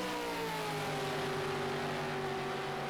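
A V8 Supercar race car pulls hard out of turn 4 with a steady, loud engine drone; its pitch holds and climbs slightly throughout, and no one speaks.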